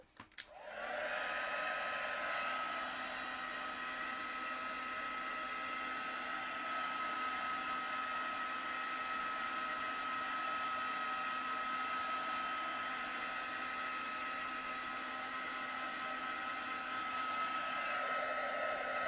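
A heat tool drying a fresh layer of watercolour paint, its steady fan whine starting after a brief click and running loud and unbroken throughout, no voices.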